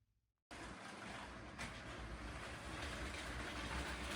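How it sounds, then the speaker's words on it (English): A LEGO train pulling new double stack cars behind BNSF and Maersk locomotives starts up abruptly and runs steadily around a layout, giving a continuous close rumble and whir that grows slightly louder. "let's try to fire this train up and see how it looks and how it runs around the layout."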